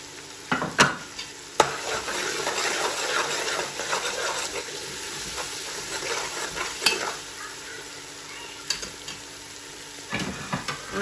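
Fried onions and spices are stirred into a sizzling pan of lamb palau, giving a steady frying hiss with several sharp scraping stirs near the start and a few more later, close and fairly loud.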